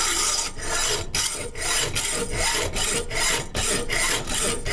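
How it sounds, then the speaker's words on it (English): A hacksaw cutting with steady back-and-forth strokes, about two per second, each a loud rasping burst with short pauses between, close and alone. "That was the hacksaw."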